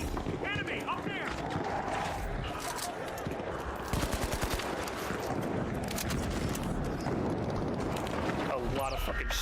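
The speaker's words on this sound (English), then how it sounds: "A lot of fucking shotguns all of a sudden." Dense bursts of gunfire from shotguns in the competitive shooter game The Finals, layered with chaotic game noise and voice chatter, with sharp cracks clustering mid-clip.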